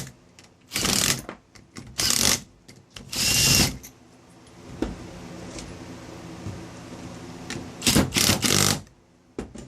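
Impact wrench driving bolts on a lowrider hydraulic pump assembly in short bursts, about five loud rattling runs separated by pauses with quieter clicks and handling noise between them.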